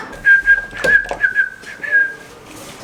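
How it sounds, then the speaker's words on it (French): Someone in a Brussels setting whistles a short, wavering tune, a thin steady tone broken by soft clicks and brief noises, close by with no talk over it. "Toi aussi tu siffles."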